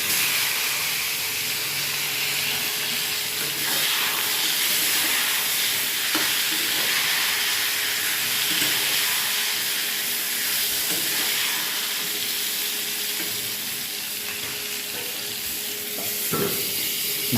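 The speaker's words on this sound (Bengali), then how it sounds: "ওই তেলের মধ্যে আমি বেগুনগুলো ভেজে নিচ্ছি।" Eggplant slices frying in mustard oil in a pan, a loud continuous sizzle and hiss up close, broken by a few scraping stirs and clatters.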